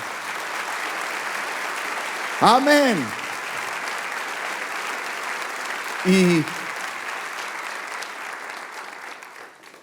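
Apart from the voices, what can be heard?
audience applause in church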